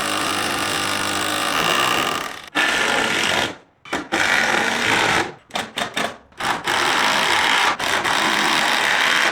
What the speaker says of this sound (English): We have a hammer drill.